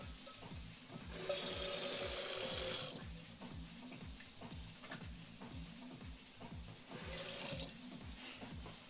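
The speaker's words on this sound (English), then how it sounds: "I'm going to put a little water in this pan because this is where I'm going to steam the broccoli." Tap water gushing into a pan to steam broccoli in a home kitchen, two loud bursts of running water separated by quieter clatter and faint dripping, no talk.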